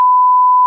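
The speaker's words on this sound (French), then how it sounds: "quand je vais mettre des bips" A single steady censor bleep added in editing, a pure loud tone lasting under a second with abrupt start and stop, no other sound.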